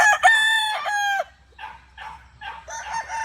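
An Allen Roundhead gamecock crows one loud, close, drawn-out cock-a-doodle-doo, followed by softer clucking calls.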